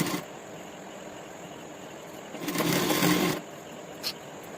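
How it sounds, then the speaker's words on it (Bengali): A sewing machine runs a short, steady burst of stitching along the top layer of a Panjabi shirt, close and whirring, set against a quiet room hum with a faint click afterward. "এবার এখান থেকে আমি সেলাই চালাচ্ছি"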